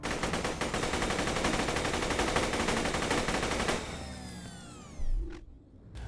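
The Leadstorm gun in Borderlands 2 fires a rapid, sustained burst of shots for several seconds, then stops, leaving whizzing and ricochet-like tails, a clunk and a brief mechanical noise near the end.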